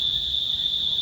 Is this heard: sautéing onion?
no